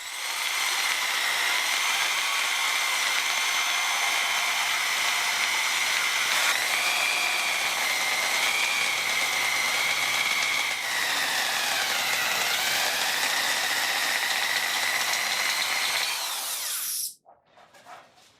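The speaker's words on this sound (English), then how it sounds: "I started with the eraser wheel on a drill" A power drill spins an eraser wheel against the paint of a 1982 GMC C2500 to remove dried double-sided tape adhesive, one long steady whine, its pitch dipping under pressure before stopping abruptly near the end.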